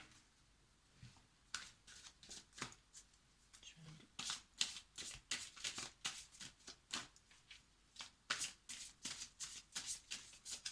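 Oracle cards being cut and shuffled by hand in a quiet room, a steady run of close, crisp riffling flutters and soft card slaps repeating throughout, with a faint murmur of speech behind them.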